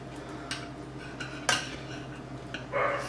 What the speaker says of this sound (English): Get it going, and then just stick your spatula underneath.